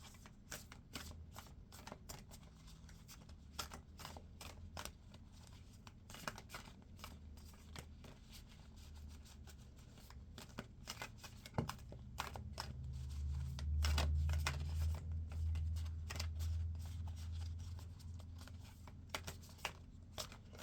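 Deck of cards shuffled again and again by hand, a run of crisp riffling bursts up close and fairly quiet, with a soft low rumble swelling partway through and no one talking.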